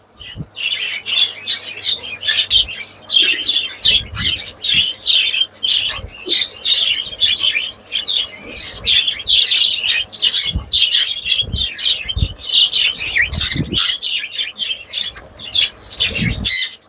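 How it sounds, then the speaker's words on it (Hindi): Australian budgies chirp and squawk continuously in a busy, close flock, with scattered soft wing flaps and rustling thumps throughout. "हमारे ऑस्ट्रेलियन बदीज जो है वो ग्रीन फूड को खाने के लिए नज़दीक आ रहे हैं"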